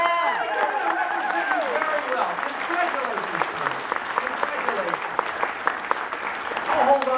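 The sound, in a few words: audience applause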